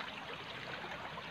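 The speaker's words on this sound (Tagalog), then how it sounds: "Kasi malakas ng tubig." Strong typhoon floodwater from Typhoon Ofel rushes past in a steady, continuous wash of flowing water, moderately faint and uninterrupted, with no voices over it.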